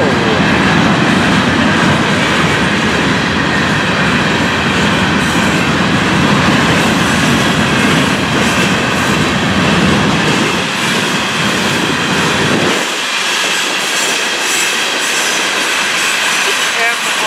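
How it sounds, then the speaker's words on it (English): Florida East Coast freight train hauling empty hoppers, a loud close rumble with clattering wheels and metallic squeal that cuts off abruptly near the end, leaving a thinner hiss. "Heading back to the Fort Pierce yard, empty hoppers in tow."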